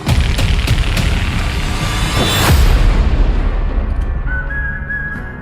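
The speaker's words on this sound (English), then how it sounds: "So many things are exploding on camera right now" Movie-trailer explosions with random old barns blowing up: a loud, continuous wash of booms and rumbling blasts with a whistling streak mid-way, fading into a high sustained tone near the end.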